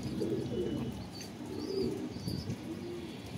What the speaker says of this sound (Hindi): ये देखिए दोस्तों, हमारे कबूतर कैसे बैठे हुए हैं।